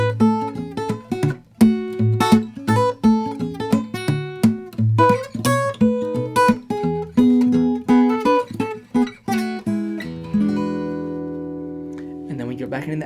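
A fingerstyle acoustic guitar plays the B section of a song as a lively run of plucked bass notes and melody, ending on a held, ringing chord.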